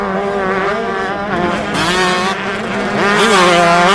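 Motocross motorcycle engine revving loud and close, a steady high whine with rising and falling pitch sweeps throughout, no talking.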